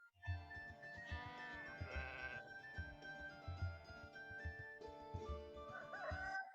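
Sheep bleat repeatedly in an animated Bible film about David and Goliath, a string of wavering calls at close range layered over soft background music.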